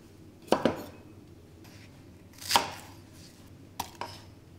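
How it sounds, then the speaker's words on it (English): Knife chopping carrots and other vegetables on a cutting board for dill beef stew, a few sharp, close, separate cuts in small clusters over a quiet room. "We start by washing carrots and cutting other vegetables."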